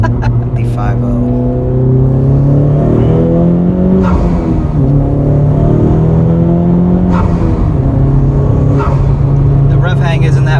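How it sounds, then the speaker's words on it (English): A Honda Civic Type R engine revs strongly from inside the cabin, with a loud, steady drone that rises and falls through gear changes and lingers between shifts. Occasional voices sound under the engine. "The rev hang isn't that bad."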